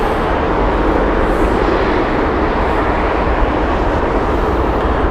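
TAP Air Portugal Airbus A320 at Heathrow Airport, a steady broadband jet roar that holds loud and constant throughout with a deep low rumble, like an airliner passing close by.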